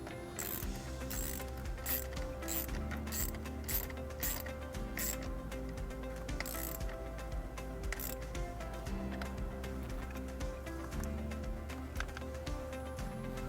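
Ratchet wrench tightening a nut back onto a battery terminal on a 2015 Mazda3 during wiring harness work, giving steady clicking mechanical ratcheting throughout, close and moderately loud, with no talking.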